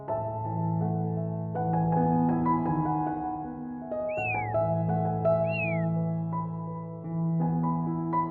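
A mother stray cat meows twice, short rising-falling calls, over a steady bed of sustained droning music.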